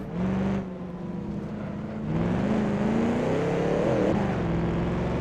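A 1934 Alfa Romeo P3 vintage race car in Assetto Corsa, racing at Donington, its engine note climbing steadily through the gears, loud and close, with a brief dip before rising again.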